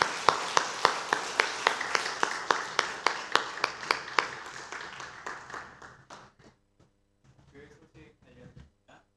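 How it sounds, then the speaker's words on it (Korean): A church congregation at a Sunday worship service claps in steady unison, roughly twenty sharp beats in an even rhythm that gradually soften and stop, followed by a brief spoken voice. "하나님께 영광의 박수 올려드립니다"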